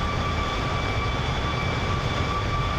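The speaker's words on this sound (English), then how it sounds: "loud engines is a compliment" Steady, loud roar of Boeing 737 MAX jet engines in cruise inside a flight simulator, a constant broadband drone with faint high whining tones and no voices.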